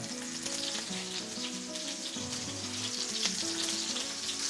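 Steady sizzling of food frying in a pan, a continuous crackling hiss with faint background music underneath.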